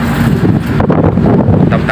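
Strong wind roaring and buffeting a microphone aboard a boat at sea during Tropical Storm Nalgae, a steady loud rush with low rumble throughout, a voice speaking over it.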